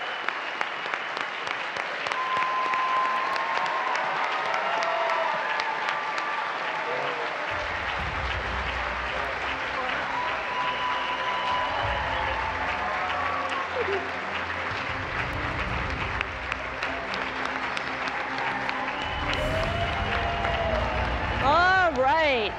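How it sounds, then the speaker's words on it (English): Crowd applause welcoming NASA's 23rd astronaut class, clapping running throughout alongside music, cheers and a voice over a public address system, with rising whoops near the end. "Great round of applause"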